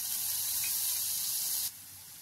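Chili, ginger and garlic masala roasting in three spoons of hot oil in a pan for spinach pulao, a steady loud bright hiss that drops abruptly to a quieter sizzle near the end.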